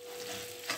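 Salted and peppered chicken meat fries in a pan until golden for an oven-baked plov, hissing and sizzling steadily up close, with a brief stir near the end.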